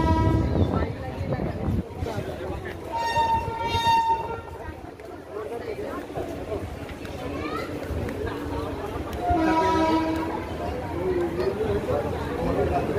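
A train stands at Payradanga station, its rumble and rail noise running throughout with tonal horn-like blasts around mid-clip, while a voice talks over it.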